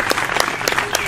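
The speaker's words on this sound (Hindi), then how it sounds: "बिल्कुल सही जवाब, तालियां तालियां इनके लिए," Brief, loud audience applause on a comedy quiz show, dense clapping throughout the whole moment.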